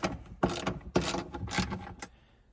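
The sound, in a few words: undoing a bolt on Ferrari F430 shifter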